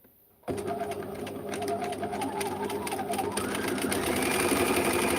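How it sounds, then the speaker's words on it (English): Sewing machine running a wide serpentine zigzag stitch through knitted fabric, close and continuous after a quiet start, its whirring rhythm steady and slightly building in loudness. "I'm turning it into my serpentine stitch so that my stitch width is on 5, my stitch length is on 1, and I am just going to stitch it."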